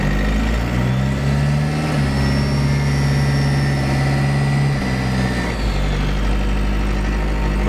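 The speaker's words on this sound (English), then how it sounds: "You can hear the whistle of the turbo at takeoff," A 3.9L Cummins 4BT turbo diesel swapped into a 2008 Jeep Wrangler Sahara idles with a steady low clatter and drone, a thin high turbo whistle rising and falling over it as the engine surges, no voices.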